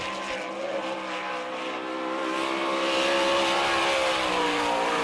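Dean Jacobs' number 18 Eagle Chassis sprint car from Wooster, Ohio, roars around a dirt track at the All Star Circuit of Champions Winter Nationals in Gibsonton, Florida, its loud sustained engine note building steadily.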